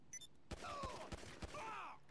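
Gunfire in GTA V Online: four or so sharp shots crack out in quick succession, faint and somewhat distant, with whining, sweeping tones trailing between them.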